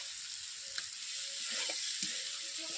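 Pond snails (googli) frying for a curry, a soft, even sizzle with a few faint scrapes and clicks of stirring, quiet and close with no voices.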